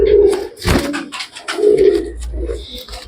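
A pigeon coos close up in low, throaty repeated phrases, with rustling and handling noises between the calls.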